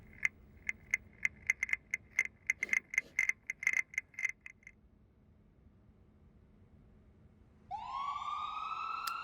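An ambulance siren from an ARG video game rises in at the end as a loud, sweeping wail, preceded by a string of sharp rhythmic clicks and ticks.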